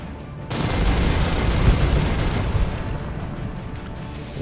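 A sustained, loud volley of weapon fire from the space-combat game Sunrider Liberation Day, a dense roaring barrage of rapid blasts rolling on for several seconds with no talk over it.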